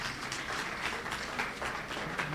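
An audience claps for the participants at an education hub launch event, a sustained patter of many hands at moderate distance, steady for the whole stretch without pauses or voices.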